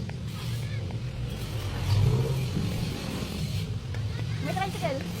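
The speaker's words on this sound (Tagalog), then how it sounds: "May tricycle." A motorized tricycle passes nearby on a street, its mid-pitched engine rising to a louder rumble around the middle and then easing off, heard under ongoing conversation and background street noise.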